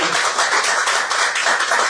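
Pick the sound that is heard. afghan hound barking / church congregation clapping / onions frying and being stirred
church congregation clapping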